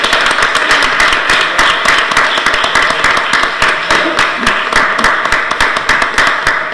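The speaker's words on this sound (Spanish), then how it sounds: "Y ahora un aplauso a las obras misionales" Audience applause at a church missionary-cooperation event in a hall, steady dense clapping throughout with sharp individual claps standing out, loud and close, no speech.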